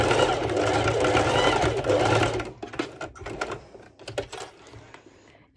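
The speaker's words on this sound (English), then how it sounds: "now I'm going to do a few straight stitches over the other end of my underwire." A sewing machine runs a few straight stitches over the end of an underwire channel on lycra. A close, steady mechanical whir gives way to choppy bursts and clicks as the machine slows and stops.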